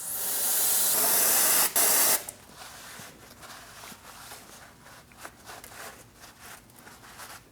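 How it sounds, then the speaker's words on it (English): Parts cleaner sprayed from an aerosol can onto the brake hub mounting surface of an Audi Q5 during a front brake job; a loud hissing burst of about two seconds, then quieter dripping and small taps. "I am now going to clean this with parts cleaner"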